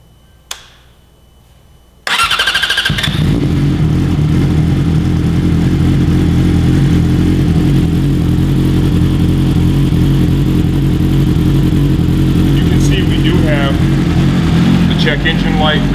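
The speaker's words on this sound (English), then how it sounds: "Go ahead and run the bike, okay, before we put the rest of the body pieces on it." After a couple of seconds of near silence, a 2017 Yamaha R6 sport bike engine fires up following a block off plate install. It then runs loud and steady at a close, rumbling idle until the end.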